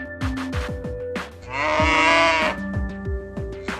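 A toy animal plays a synthesized cow moo, a long sustained lowing call in the middle, surrounded by bouncy electronic toy sound effects and tones.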